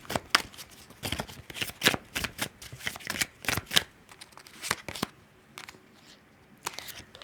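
Tarot cards being shuffled by hand during a reading, a close run of crisp riffling bursts in uneven rhythm that thin out to a few scattered flicks toward the end, with no voice.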